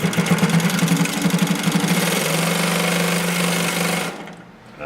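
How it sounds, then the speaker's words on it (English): A vertical axis sewing machine stitches a test seam in a fast, even mechanical chatter that runs loud and continuous for about four seconds, then winds down and stops. "I'm just going to hold the tails here out of the way and to quickly test sew it."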